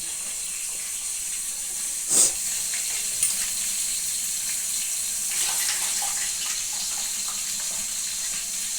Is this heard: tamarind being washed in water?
yes